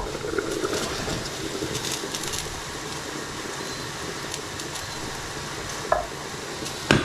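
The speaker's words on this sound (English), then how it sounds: "Okay, this can boil away." A pot of cauliflower and potato stew bubbles steadily up close with a soft, frying-like seething, punctuated near the end by a couple of brief clinks.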